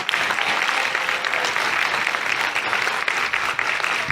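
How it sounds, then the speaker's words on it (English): Dense applause from a convention audience, a continuous wash of clapping hands held at steady volume throughout. "Round of applause"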